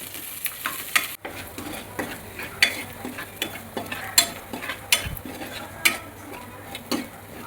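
Garam masala, fish masala and coriander powder are stirred together in a pan for fish fry, producing a soft low sizzle under a series of sharp, evenly spaced spoon taps and scrapes, fairly close.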